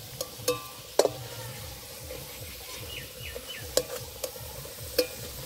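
Potatoes frying in a pan, a steady close sizzle with occasional sharp clinks and scrapes of a utensil stirring them, no voices.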